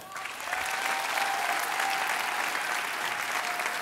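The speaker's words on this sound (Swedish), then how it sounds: "Vi ger en applåd till Petter" A television studio audience on the Swedish Idol show applauds contestant Petter with dense, steady clapping that swells after the first half second and holds loud and even, with faint cheering mixed in.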